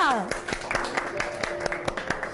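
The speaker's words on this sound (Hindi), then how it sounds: "तालियां।" A studio audience at a live Pakistani morning television show claps in light, scattered applause, with steady faint clapping under a sustained tone and some background voices.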